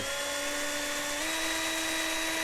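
A cheap drill bit bores out a stripped screw head with a steady, high whining drone, constant and close with no pauses.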